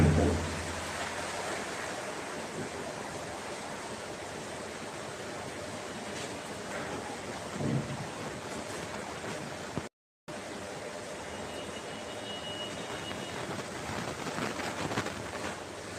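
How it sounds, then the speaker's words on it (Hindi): Heavy rain pours outdoors in a steady, dense hiss that holds at an even level throughout, broken only by a brief gap partway through. "आवाज़ बहुत आ रही, पानी बहुत तेज बरस रहा है।"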